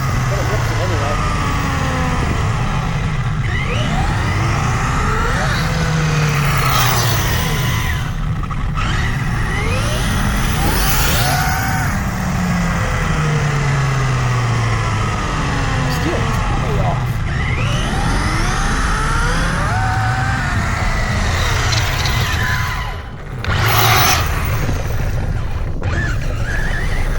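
An Arrma Mojave RC truck on street tires rips along pavement, its electric motor whining up and down in repeated revving sweeps with tire noise, close and loud throughout, while a person talks over it.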